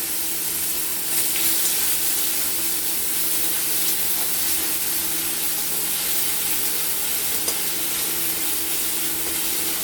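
Chopped tomatoes fry in a pan for a moong dal, giving a dense, even sizzle that hisses steadily throughout. A faint stir or two is audible and there is no talking.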